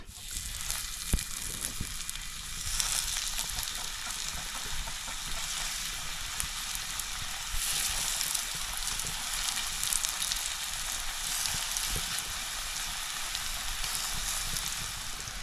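Par-cooked slices of suran, elephant foot yam, shallow fry in a little oil in a pan, giving a steady close sizzle and crackle that carries on throughout with no talk.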